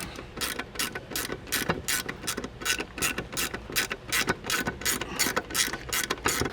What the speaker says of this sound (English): Now we can go ahead and tighten down our upper ball joint.